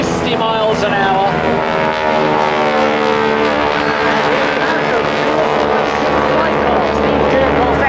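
Display aircraft performing manoeuvres at the Clacton Airshow, diving at nearly 150 mph, produce a loud sustained engine drone with a wavering pitch, overlaid by continuous commentary from a public-address voice.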